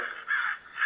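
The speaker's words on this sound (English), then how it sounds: "He's a crow." A crow perched on a fireplace lets out two harsh, rasping caws in quick succession, close and clear with no talking.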